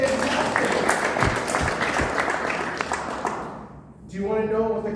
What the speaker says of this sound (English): Give her a round of applause, she did fantastic.